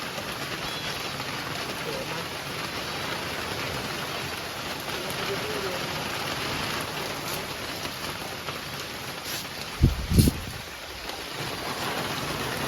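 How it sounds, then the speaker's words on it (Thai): Heavy rain pounds steadily on a corrugated zinc roof, a dense continuous roar, with a brief burst of louder knocking near the end. "คือฝนตกแรงมาก"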